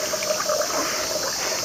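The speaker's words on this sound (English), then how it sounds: "You take the ladle and you pour it on your hands" Water poured from a ladle over hands at a shrine purification fountain, a soft continuous trickle and splash close by, fairly quiet and brief.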